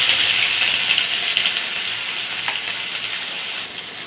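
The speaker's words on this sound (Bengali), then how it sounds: "তেলটা গরম হয়ে গেছে, কেটে রাখা পেঁয়াজ দিয়ে দেবো।" Chopped onions tossed into hot oil sizzle loudly and continuously up close, a dense steady frying hiss that fades slightly at the end.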